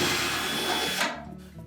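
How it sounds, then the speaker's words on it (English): A power driver whirs briefly while backing a 5/16 hex head screw out of the base bracket on a Whirlpool dryer, then spins down and stops. "We'll start by taking the 5/16 hex head screw out of the bracket that attaches to the base."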